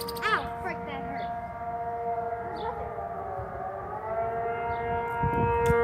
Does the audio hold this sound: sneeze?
no